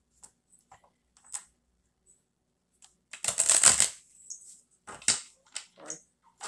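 Tarot cards shuffled during a live psychic reading, heard as a few soft riffling bursts with one dense flurry midway, close and fairly quiet with short pauses between.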